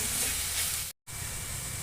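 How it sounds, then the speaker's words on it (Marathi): Ground dried fish chutney mixture sautéing in oil, a loud close hissing sizzle that cuts out briefly and then resumes. "हे छान यामध्ये परतून घ्यायचं."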